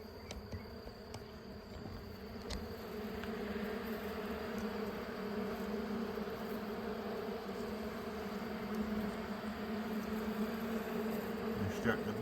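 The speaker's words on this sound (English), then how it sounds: "They're starting to buzz a little bit because her queen's gone." Honeybees buzz inside an open hive after their queen has been taken out, a steady, dense drone that holds without a break and grows slightly fuller over time, close by, with no talking.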